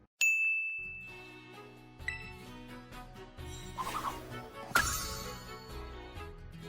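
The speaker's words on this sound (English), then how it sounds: "when I register a new Pokemon into my Pokédex" A bright chiming jingle plays as a new Pokémon is registered into the Pokédex in Pokémon Scarlet and Violet, a ringing ding followed by a short layered musical fanfare with sparkling accents, fairly soft and alone.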